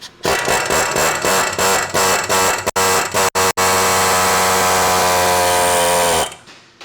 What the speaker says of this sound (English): take our air hammer and just push this CV through.